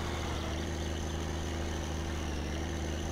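A truck engine in the driving game My Summer Car runs at a steady, even rumble, a low droning hum with no pauses or changes in pitch.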